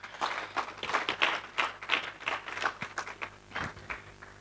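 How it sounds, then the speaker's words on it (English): A conference audience gives faint, steady applause, with many hands clapping at a distance in a hall, and the clapping tapers off near the end. "Kindly, let's give him a round of applause."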